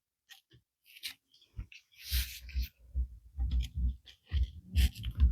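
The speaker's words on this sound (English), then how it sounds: "chewing on the broom" A pet gnaws on a broom nearby, giving irregular bursts of crunching and clicking that grow busier and louder toward the end, with some quiet handling noises between.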